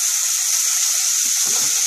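Onions stir and sauté in a pan for egg curry, a steady close hiss of frying with faint scraping.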